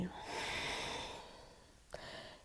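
Steady breathing through a held forward fold in an Ashtanga yoga class, a long airy exhale followed by a short sharp intake and a quieter breath, close and soft with no talk.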